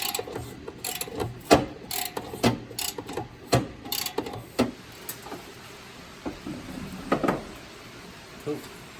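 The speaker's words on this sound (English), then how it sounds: "let's get those head bolts off" A ratchet wrench works on engine head bolts during a teardown, clicking in short repeated bursts of ratcheting strokes, close and distinct, with pauses between pulls.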